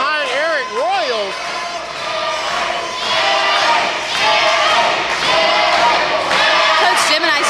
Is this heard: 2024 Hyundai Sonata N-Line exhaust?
no